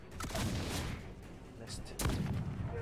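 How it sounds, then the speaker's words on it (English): Swivel gun fire in Assassin's Creed IV: Black Flag during a naval boarding fight, a heavy boom near the start and another sharp blast around two seconds in, over rumbling battle noise and game sound. "If I'm lucky, I could do this with just shooting my swivel gun."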